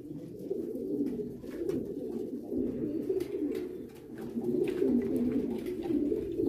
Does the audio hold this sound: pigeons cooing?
yes